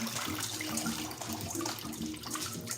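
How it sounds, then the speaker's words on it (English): Rice being washed under a running kitchen tap, with a steady stream of water splashing and gurgling throughout, close and continuous with no talk. "We'll wash the rice."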